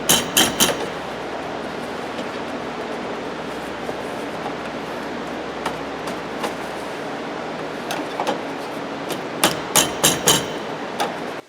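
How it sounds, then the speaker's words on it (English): An inside door handle on a Chevrolet Express or GMC Savana van is tapped back into place, giving sharp hammer-like knocks in small clusters at the start and again near the end, over a faint steady hum. "Just tap it back into place."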